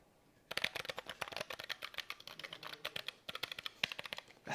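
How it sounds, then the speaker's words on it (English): Rapid, crisp clacking of keys typed on a Keychron K9 mechanical keyboard, a quick irregular run of close, sharp keystrokes that starts after a brief pause, with no talking. "It is a legitimate mechanical keyboard."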